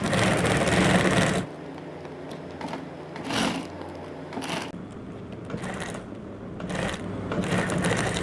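A sewing machine stitches strips of trouser fabric, running loud and fast at first, then continuing quieter with short pauses and uneven bursts of mechanical clatter.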